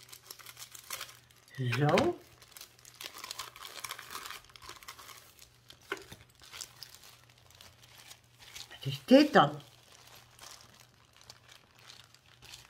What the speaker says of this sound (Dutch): Allemaal plastic zakjes.